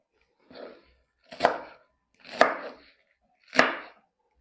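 Fresh spinach (palak) being chopped with a knife on a board, four crisp separate cuts spaced about a second apart, close and clear in an otherwise quiet kitchen.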